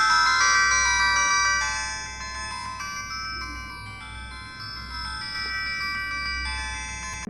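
A W26+ smartwatch plays a melodic electronic ringtone through its small speaker, a steady run of tinny tones that stays fairly quiet and continues for several seconds.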